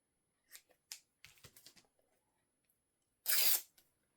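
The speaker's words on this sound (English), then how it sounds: "Let's cut our length. And now let's cut our width." Scissors cutting fabric at close range: a few short snips and rustles, then one strong, sustained slicing cut through the cloth, with silence between the sounds.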